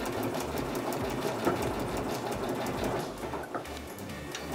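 A sewing machine stitches backward and forward while piecing a quilt block, its needle running in quick, rattling bursts with short pauses and shifts in pace.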